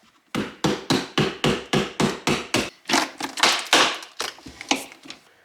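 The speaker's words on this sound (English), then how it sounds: "So I'm going to attempt to pry it apart with my chisel." A chisel prying at a glued battery case on a 12V 100Ah LiFePO4 battery: a fast series of about ten sharp, evenly spaced taps, followed by looser, irregular knocks and scraping, close and fairly loud.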